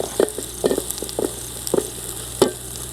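A spoon scrapes and taps rhythmically in a pan while green chili paste is stirred for duck roast, about six distinct strokes over a faint steady sizzle.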